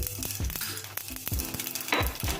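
Whole cumin and crushed garam masala sizzle and crackle in hot ghee, a close, quiet frying hiss with sharp pops and a flare of spitting near the end.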